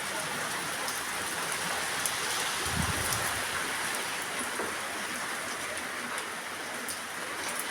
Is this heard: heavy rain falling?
yes